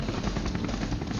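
Helicopter in the Telugu film Magadheera: a steady, dense rotor and engine roar fills the short stretch at constant loudness, with no voices over it.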